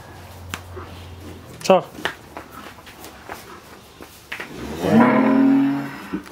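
A calf gives a loud, drawn-out moo near the end, after footsteps and shuffling close by, with a shorter call earlier, calling to be fed.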